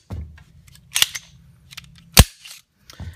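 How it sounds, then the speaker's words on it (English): A Ruger American pistol is worked through a function check, giving a series of crisp mechanical clacks and snaps as the slide is racked and the trigger clicks, loud and close with short pauses between. "Pull the trigger, hold it, rack it. Should hear the click, pull, everything's good."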